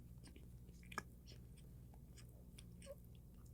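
Quiet close-up chewing of a bite of burger that has been left to sit, soft mouth sounds with a couple of sharper crunchy clicks, no talking.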